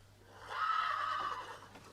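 A horse gives a single loud, close whinny that swells and fades over about a second and a half against a faint low background hum.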